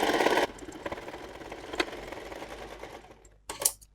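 A sewing machine stitching a kurti co-ord set gives one short, loud run at the start, then falls to a quiet background of faint handling clicks and taps.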